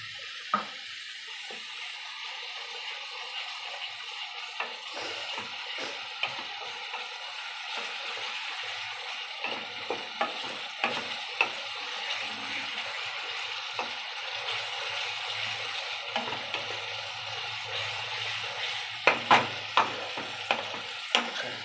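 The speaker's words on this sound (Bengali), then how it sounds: "হালকা হালকা জল দিয়ে একটু মশলাটা কষাবার চেষ্টা করবে" A spice paste for duck egg curry sautéing in a pan with a splash of water: a steady close sizzle runs throughout, punctuated by repeated scraping and tapping strokes of a spoon stirring, growing busier toward the end, no voices.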